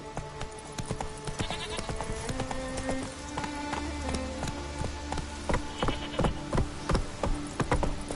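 Roach the horse galloping in The Witcher 3, rapid rhythmic hoofbeats drumming fairly close, mixed with game music and ambient effects, with the pace picking up toward the end.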